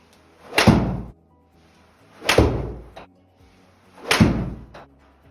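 A golf club striking a ball three times in succession, each shot a solid, close thwack with a short dull tail, evenly spaced about two seconds apart.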